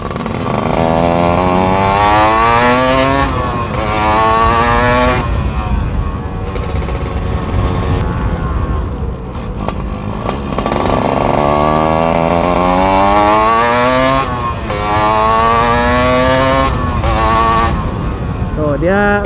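A Suzuki Satria two-stroke motorcycle engine revs hard at high RPM, its pitch climbing and falling in repeated surges with a raspy, buzzing whine that stays loud and close throughout.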